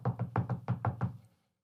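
A quick run of about seven evenly spaced, hollow knocks, loud and close, lasting just over a second before stopping into silence, with no talking.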